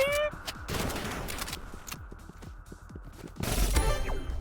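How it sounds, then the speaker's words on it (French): Rapid minigun fire in the Roblox Rivals video game, a fast stream of sharp repeated shots that runs steadily and grows louder near the end, mixed with other game effects. "il a sorti le sniper pixel. Ou alors minigun pixel."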